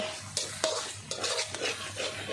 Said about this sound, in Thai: ผัดปลา